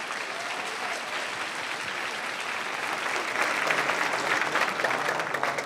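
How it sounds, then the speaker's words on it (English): An audience at an elementary school awards ceremony applauds a step team, a dense, steady wash of clapping that swells slightly toward the end. "Let's give them another round of applause."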